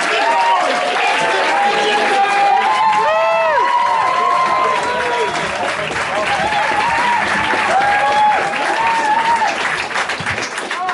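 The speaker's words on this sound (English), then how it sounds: "Start the clapping, start the whipping, start the cheering." Audience at a Bright Club Edinburgh comedy show clapping and cheering, a dense, loud, sustained burst of applause with whoops and shouted voices over it throughout.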